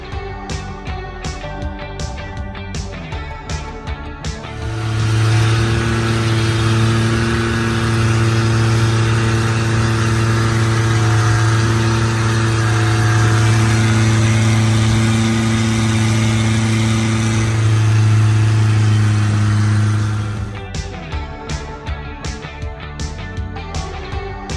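A motorboat cruises at sea off the Thai coast near Phuket and Krabi, its engine a loud, close, steady drone that swells in and holds evenly before fading back to a rougher idle.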